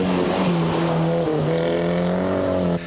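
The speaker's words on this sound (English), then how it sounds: "Today, the cars tackled a hill climb in the Barossa Valley." Peugeot 203 cars on a hill climb in the Barossa Valley, an engine droning close by with a steady, slightly rising pitch for a few seconds.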